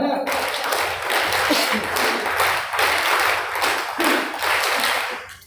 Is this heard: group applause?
yes